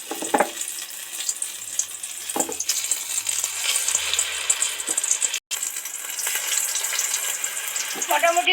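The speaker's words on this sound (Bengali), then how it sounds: "সবগুলোই তো হাফ ডাউন করে ভেজে নিলাম" Mango pakoras fry in hot oil with a steady bubbling sizzle, broken by occasional clinks and scrapes of a utensil and one brief cutout, close and fairly loud throughout.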